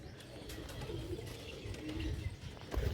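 A broad-headed domestic pigeon with thumb-like markings coos softly amid faint background noise, low and steady over a few seconds.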